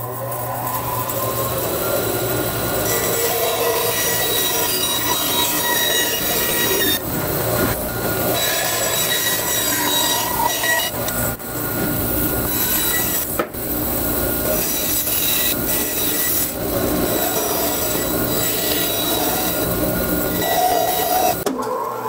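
A bandsaw fitted with a 1-inch resawing blade cuts wood in a workshop, making a loud, steady mechanical whine and rush that carries on without pause, with a few brief dips.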